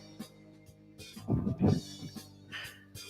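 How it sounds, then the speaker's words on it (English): A few quick, irregular thumping footfalls close by, a short burst of running steps in an otherwise quiet space. "That's the sound of me running."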